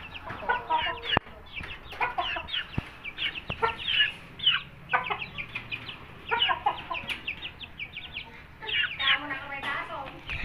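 Chickens of good breeds cluck and squawk in their cages, a busy mix of close, overlapping calls with occasional sharp knocks, while people talk nearby.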